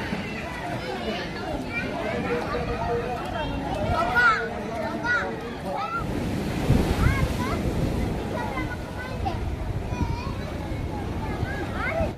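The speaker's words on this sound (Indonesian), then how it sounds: "Nah ini kebetulan pantainya lagi ombak besar ya." Big surf rolls onto Galesong beach in Takalar, facing a seaside swimming pool and gazebos, a steady roar of breaking waves mixed with wind buffeting the microphone, while a person talks over it throughout.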